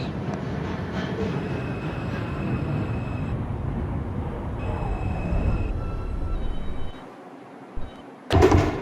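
A Manhattan-bound New York subway 4 train rolls between stations in Brooklyn, a steady loud rumble of wheels and car noise with faint squeals, easing near the end before a sharp burst of sound.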